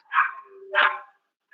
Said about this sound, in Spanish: Hay un montón de perros que pelean allá abajo.